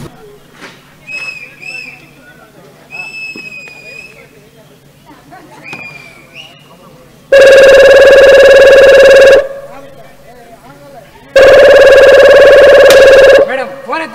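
A telephone rings loudly in two long electronic bursts during a school stage play performed by former students. Faint voices and bits of music come before the rings.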